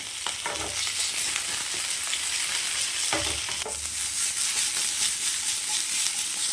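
Shallots and curry leaves frying in hot oil for a mutton curry, giving a steady close sizzle with a few bursts of spatula stirring and scraping and no talk.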